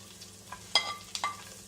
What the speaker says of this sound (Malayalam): ബട്ടറിലേക്ക് നമ്മൾ കട്ട് ചെയ്ത് വെച്ചിരിക്കുന്ന ക്യാരറ്റ്സ് ആഡ് ചെയ്യാം, ക്യാപ്സിക്കം,